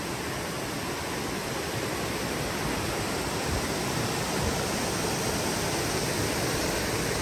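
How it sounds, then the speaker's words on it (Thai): Phu Soi Dao waterfall in Uttaradit, Thailand, in the rainy season, roaring as a steady, dense, unbroken rush of falling water that fills the whole scene with no voices. "น้ำตกภูสอยดาวนะครับ"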